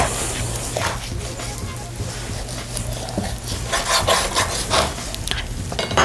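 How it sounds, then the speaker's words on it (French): A knife works through a raw whole chicken along the bones on a cutting board, with continuous scraping, rubbing and slicing noises close up and some faint board knocks. "On met le couteau, on suit vraiment les os. Et là, on détache les escalopes."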